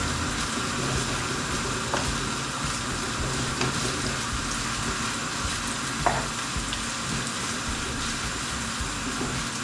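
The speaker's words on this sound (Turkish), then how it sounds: "yağımız kavrulmaya başladı." Oil sizzles and crackles steadily in a pan for Turkish çökelek kavurması, a broad continuous frying hiss with a few sharper pops, close and alone with no talking.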